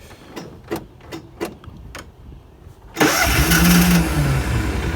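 A Kawasaki Mule utility vehicle engine cranks with the choke on and catches, starting suddenly and settling into a loud, steady idle after a few seconds of quiet clicks and handling noises.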